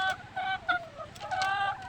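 A chicken clucking close by in a series of short, sharp, throaty calls with brief pauses between them, heard alone without speech.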